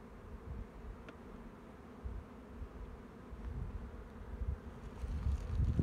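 Honey bees buzzing steadily at an opened hive in early spring, a dense low hum close by with faint rustling as frames are handled.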